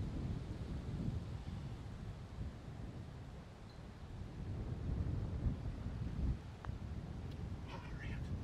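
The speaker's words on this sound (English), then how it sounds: "it's the gusts of wind that make it difficult" Gusts of wind buffeting the microphone on a golf course, a continuous low rumbling roar that swells and eases, loud and close, with no voices during the stretch.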